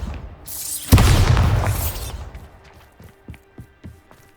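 A Bombarda explosion spell goes off in Hogwarts Legacy near a closed mine: a sudden loud blast with a rumbling tail that fades over about a second, followed by a few faint thuds and pops.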